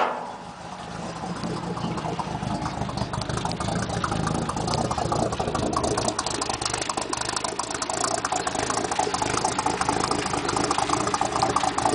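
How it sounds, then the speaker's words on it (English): Low, mellow idle of the six-cylinder engine in a 1967 Ford highboy truck, a steady continuous rumble with a faint rattle, recorded close and without talk. "Never did like the sound of 6-cylinders, but this one sounds awesome."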